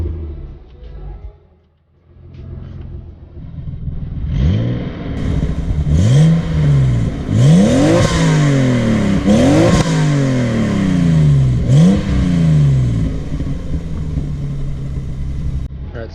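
A turbocharged 500 whp BMW E36 M3 revs hard from about four seconds in, its rising harmonic sweeps repeating in loud, close pulls with brief drops between gear changes, the engine droning on steadily afterward.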